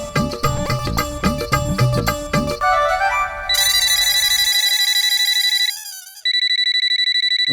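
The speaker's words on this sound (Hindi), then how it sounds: "वीरे भाई का कॉल इतनी रात को?" A telephone ringtone plays loud and close for several seconds at night, first as a melodic tune, then switching to steady repeating electronic ring tones signalling an incoming call.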